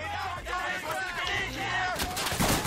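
Gunfire and grenade blasts crackle in a wartime shooter game, Day of Infamy, with rapid shots and a heavier burst near the end, while voices shout underneath.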